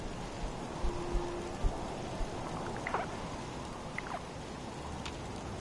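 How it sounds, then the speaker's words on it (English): In-game rain in Fallout 4: a quiet, steady wash of rainfall with a few faint low thumps, and no speech. "Why is it raining?"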